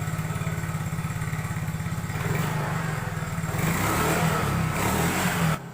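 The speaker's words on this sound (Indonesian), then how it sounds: "Nah ini motor udah gua hidupkan" A motorcycle engine, just repaired after a weak fuel pump, idles steadily with a rapid, even throb, then its revs climb and hold higher as the throttle is worked, loud and close, before dropping back at the end.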